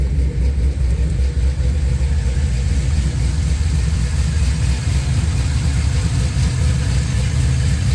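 A car engine with a Flowmaster exhaust idles steadily, a loud, deep rumbling burble with a slight choppy pulse, close by and running alone throughout.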